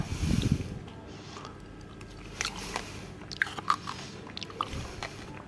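Someone eats an oversized yogurt up close, with a few soft squishy bites and small mouth clicks over quiet room tone.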